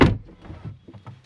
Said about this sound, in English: Okay, I'll close the door, sir.